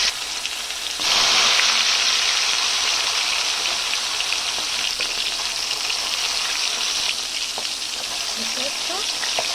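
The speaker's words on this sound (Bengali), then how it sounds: "মাছগুলোকে এভাবে ভেজে নেব।" Koi fish, already rubbed with salt and turmeric, hits hot oil in a wok, and a loud, bright sizzle starts suddenly, then holds steady and close.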